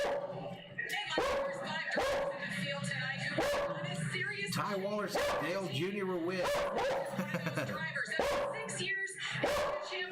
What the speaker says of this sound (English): the dogs are going to bark a little bit